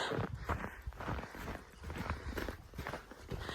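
Cattle hooves plod over the ground as cows are driven through a Kazakh village. The steps come close and uneven, a steady shuffle of many feet with no talk.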